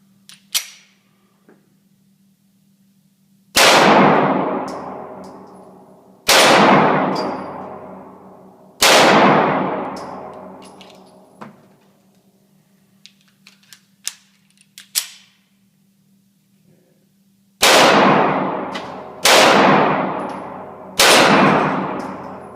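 A SIG P938 pistol fires PMC bronze 124 grain FMJ rounds at a range, six loud sharp shots in two groups of three, each followed by a long echoing decay, with faint clicks and handling noises in between.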